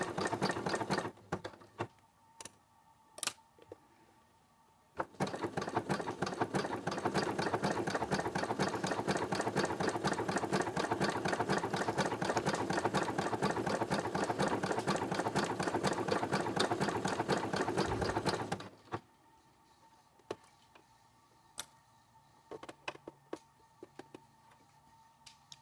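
A domestic sewing machine stitches a ruffle onto fabric along the seam allowance, a fast rhythmic mechanical whir running steadily for about fourteen seconds, framed by quieter handling clicks and pauses before and after.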